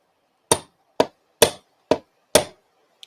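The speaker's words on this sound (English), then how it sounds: "A couple of taps of the hammer just to get it started." Five sharp hammer taps on a model railway track pin, evenly spaced about half a second apart, close and crisp with quick decay, heard alone, followed by a faint tiny click.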